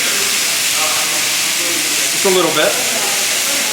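Steak searing in olive oil in a hot pan, a steady broadband sizzle that holds throughout, with brief speech and a flare of crackling near the middle.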